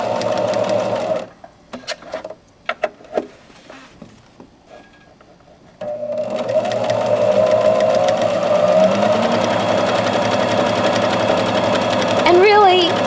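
A sewing machine stitching a decorative design on fabric: scattered clicks and short bursts give way to a continuous loud, fast whirring run that holds steady to the end.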